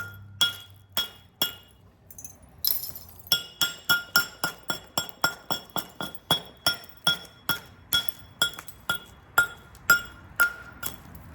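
Flint River chert being knapped to bevel an edge: a long series of sharp, glassy clinks and taps from stone striking stone, struck in a steady rhythm about twice a second, close and clear with no talking.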